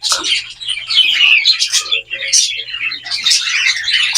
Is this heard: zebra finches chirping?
yes